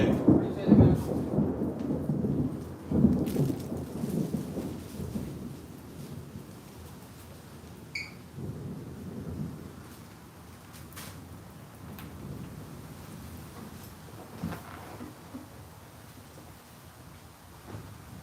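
An afternoon thunderstorm in Tampa, Florida rolls with deep rumbling thunder, loud booming bursts near the start and again partway through, fading into softer grumbles over steady rain, with occasional faint knocks.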